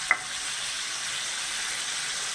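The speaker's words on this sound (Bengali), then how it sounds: "এই যে আমি দই জল ধোয়া এটা দিয়ে দিচ্ছি" Water poured into chicken frying in a pan for a village-style onion chicken, giving a steady, close, broadband sizzle from start to finish, with a brief sharp hiss right as the liquid hits.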